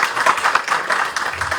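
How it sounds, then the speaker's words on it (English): Applause from a temple gathering audience at a Radha Krishna Mandir in Cambridge, Ontario: a brief, fairly close patter of hand claps with no voices. "So give them both a round of applause,"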